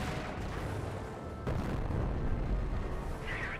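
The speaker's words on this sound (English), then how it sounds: "Incendiary mortar there gets a pretty good hit." An incendiary mortar round lands in Company of Heroes amid battle noise, a sharp impact followed by a deep rumbling burst, fairly distant and muffled.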